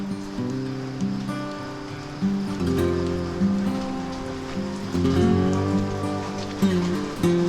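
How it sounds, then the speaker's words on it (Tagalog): Rain falls steadily outdoors near water, a continuous wash of patter that swells slightly louder midway, with no talk over it. "Kaso umuulan."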